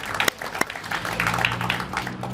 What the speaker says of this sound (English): clap for families